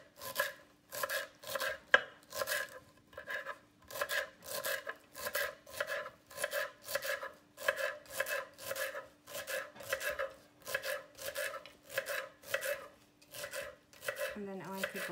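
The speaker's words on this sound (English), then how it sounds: "Start cutting our cilantro." A knife chops fresh cilantro on a cutting board in rapid, even strokes, about twenty crisp close taps in a steady rhythm, with no talking.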